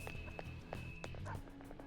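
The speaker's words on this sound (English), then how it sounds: "Oh, I hear doggy bark barks." Short yipping dog barks from the video game Persona 5 Royal, several quick bursts over steady game background sound, with a voice talking faintly underneath.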